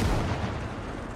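A mortar fires in the WWII game OstFront, a single heavy, deep boom that rumbles out over about a second, loud and close.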